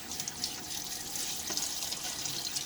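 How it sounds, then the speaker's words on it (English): Water splashes at a bathroom sink during a wet shave, a quiet continuous trickle with light splashing and drips. "splash a little water on my face"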